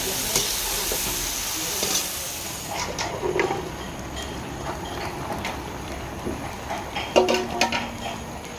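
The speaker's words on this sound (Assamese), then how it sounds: "লগে লগে এতিয়া মই ভোলখিনি ভাজি ল'ম।" Pan-frying of ingredients in a small home kitchen sounds as a steady sizzle and hiss, with occasional scrapes and knocks of a utensil against the pan that grow sharper near the end, and no talking.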